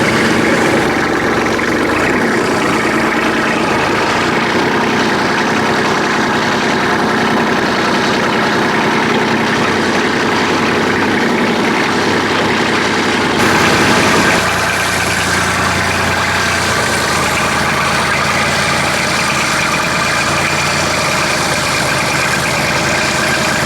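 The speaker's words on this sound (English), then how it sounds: "let's go unhook it so we can get our tractor parked back in the barn" A farm tractor idles steadily for over twenty seconds, a loud, close, continuous engine rumble whose tone shifts slightly about halfway through, with no voices.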